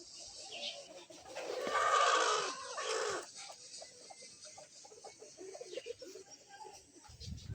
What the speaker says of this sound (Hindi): नीचे हमारे मुर्गे घूम रहे हैं